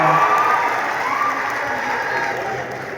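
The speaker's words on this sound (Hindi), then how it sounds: "ये भी तालियां बजाएगा।" Audience applause and cheering at a poetry gathering in Patna, a dense steady wash of clapping with a few voices rising through it, close and fairly loud throughout.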